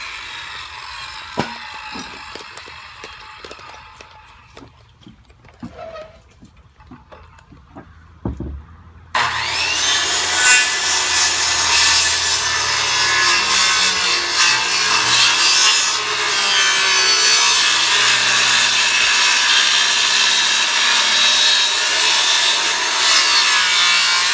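A hand saw cuts through a wooden roof rafter during a remodel, first with sparse tapping and rasping, then a loud, continuous rhythmic sawing for the last fifteen seconds, close and without talk.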